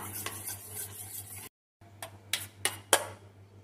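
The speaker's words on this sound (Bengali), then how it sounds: "এখন এই টক দইটাকে প্রথমে একটু এইভাবে ফেটিয়ে নেব" Sour yogurt being beaten with a spoon in a small bowl, a few quick scraping and tapping strokes, brief and close, interrupted by a short gap and then several sharper clinks against the bowl.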